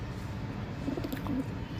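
A weak, undernourished female pigeon gives a few soft, low coos over a steady background hiss, faint and brief.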